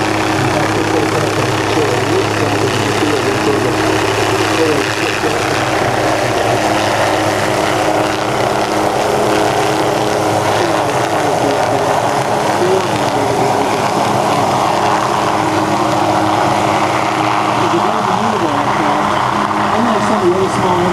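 A Hughes 500 helicopter flies a demonstration at the Rotorfest 2008 airshow, its engine and rotor drone holding steady and loud throughout while an announcer talks over it.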